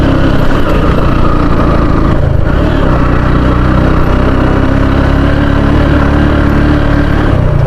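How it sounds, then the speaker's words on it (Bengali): A motorbike engine labors loudly and continuously, droning strained and unbroken as it climbs a steep hill road near a village in Sreemangal. "বাইক এক গিয়ারে দিয়ে উঠতেছে না"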